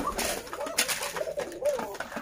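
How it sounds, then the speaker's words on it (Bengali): Lotan pigeons cooing nearby in repeated soft, rolling coos over a light background rustle, with no talking. "এগুলো হচ্ছে আমার লটন কবুতর।"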